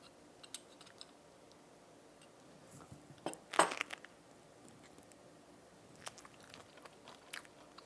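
Crisp crunchy bites and chewing into a Vietnamese spring roll, a few sharp crackling bursts clustered near the middle, close and quiet in an otherwise still room.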